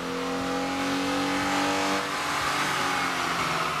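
A 2011-2014 Ford Mustang with the 3.7L V6 and a new throttle body revs hard on a dyno, its engine climbing in a loud sustained pull then easing slightly, with no talk.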